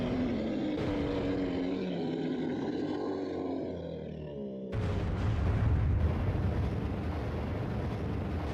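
A boss creature in Metroid Prime is destroyed, letting out a long, loud, roaring death cry that fades, then a sudden, sustained, rumbling explosion.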